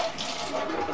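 Liquid is poured off a doll, a steady close splashing trickle that runs without a break.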